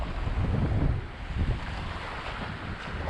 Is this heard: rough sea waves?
yes